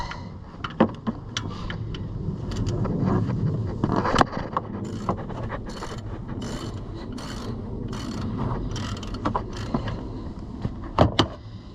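A 15mm bolt broken loose on a 2015 Chevrolet Suburban during alternator work, with close metallic clicks, scrapes and knocks of wrench and ratchet handling scattered irregularly across the clip.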